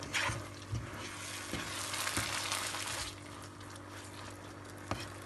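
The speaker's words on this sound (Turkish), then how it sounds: "Şöyle biraz da domatesle kavuracağım." Rice and tomato fry together in butter in a pan, giving a soft, steady sizzle with occasional stirring clicks and scrapes, faint and close, with no speech.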